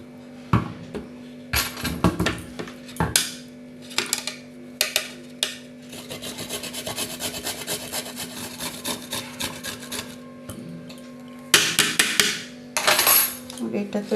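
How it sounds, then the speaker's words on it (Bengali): A carrot being cut and then grated by hand in a home kitchen, with a few sharp knife chops first, followed by a run of steady rhythmic rasping strokes, then more chopping and handling at close range. "গাজরটাকে কেটে নেব আর একটু গ্রেট করে নেব গাজরটাকে।"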